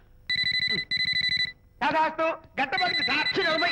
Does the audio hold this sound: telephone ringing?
yes